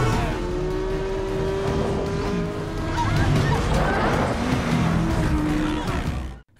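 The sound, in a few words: car ramming into another car in a film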